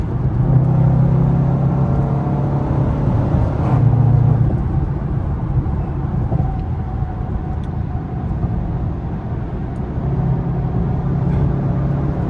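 Range Rover SVR driving at speed, a steady loud engine drone and road rumble from inside the cabin, with no talk.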